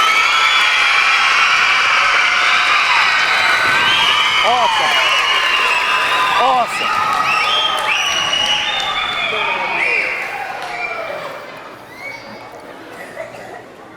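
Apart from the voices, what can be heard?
children cheering, shouting and applauding at school assembly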